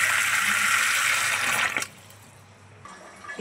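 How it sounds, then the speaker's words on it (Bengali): Tap water runs steadily onto cut papaya, a loud close splashing stream that stops abruptly partway through, leaving quiet, with no talk. "এখন আমি পেঁপেটা পরিষ্কার পানি দিয়ে ধুয়ে নিব।"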